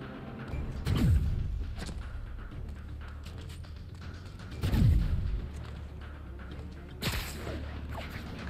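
Sniper gunfire in the Marvel's Spider-Man video game: three heavy, booming shots, each spaced a few seconds apart, ring out over a constant low rumbling background.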